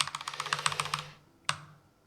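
Rapid run of clicks from an old, worn computer keyboard whose keycaps are falling out as it gets fixed, fading after a second, then one sharp final click after a brief gap, close up.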